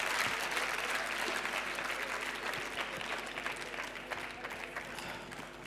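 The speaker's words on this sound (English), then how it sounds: "give them a very big round of applause for their courage." An audience at a Qatar speaking-contest event gives a sustained round of applause, dense clapping that is fairly faint and gradually thins out toward the end.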